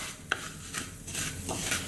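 Fine vermicelli being sautéed in desi ghee in a pan, with a soft continuous sizzle and scraping stirs of a utensil, close and steady with no talk.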